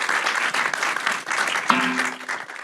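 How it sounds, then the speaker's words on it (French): An audience at a conference on religion in the workplace claps in a dense, steady burst of applause that carries through the whole short stretch, with a brief voice heard near the end. "on peut applaudir Lucie"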